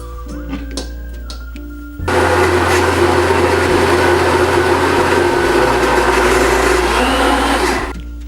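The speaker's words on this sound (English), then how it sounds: "you're gonna put the blender on puree and let it go until the mix is smooth" A blender on the puree setting whirs loudly and steadily through horchata mix, starting abruptly after a quieter moment and running for several seconds before cutting off.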